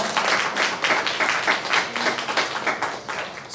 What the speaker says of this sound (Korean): 우리 장로님께 응원의 박수